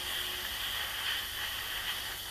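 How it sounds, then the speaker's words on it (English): An airbrush turned up to higher pressure sprays paint during the rechroming of a M.A.S.K. Rhino toy, giving a steady, even hiss of air that holds at a constant level for the whole moment, with no talk. "What I needed to do was just up the power on the airbrush."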